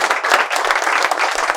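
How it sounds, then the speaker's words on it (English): Loud, close applause fills the hall at a public speaking championship, a dense continuous patter of many hands clapping with slight swells and no pause. "आवाज तो तालियों की आ रही है"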